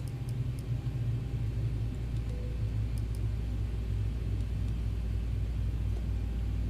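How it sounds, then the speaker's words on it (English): Boeing 737 engines spooling down at the gate in a flight simulator, a steady low rumble and hum continuing evenly throughout with faint high ticks, no voices. "Shutting down the engines."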